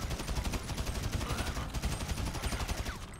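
Rapid automatic gunfire in GTA V sounds as fast, evenly spaced bursts that run without a break through the whole moment, loud and close. There is no talking.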